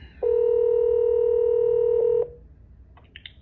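A steady, loud two-tone touch-tone beep lasts about two seconds, close and alone, followed by a few faint, short electronic chirps.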